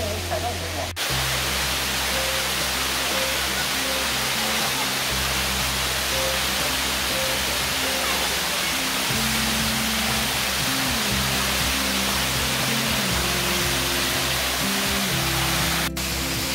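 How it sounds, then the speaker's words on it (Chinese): A small waterfall and stream at a mountain campground in Fuxing District pour out a steady, close, broadband rush of falling water with no break, and a faint low hum runs underneath. "有没有一个小小的小瀑布下来"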